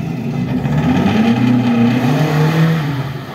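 A Plymouth Road Runner at the start of the Ennstal Classic 2023 rally, its big-displacement engine rumbling loud and close and rising steadily as the car pulls away, with no talk over it.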